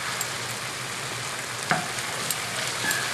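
Shallots sizzle in a hot pan, a steady close frying hiss with a few small pops and light taps of a utensil, heard alone with no talking.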